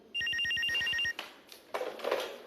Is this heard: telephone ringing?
yes